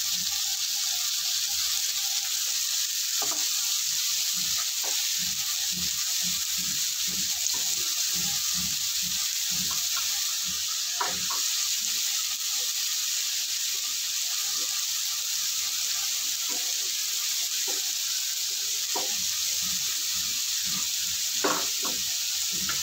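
Masala and mixed vegetables for a cabbage sabzi sizzle steadily in a pan after water is added, a constant hiss with scattered soft crackles and stirring clinks throughout, close and fairly loud.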